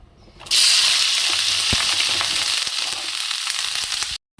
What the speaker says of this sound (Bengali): আলুটা আগে ভেজে নিই